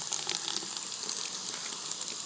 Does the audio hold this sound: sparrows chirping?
no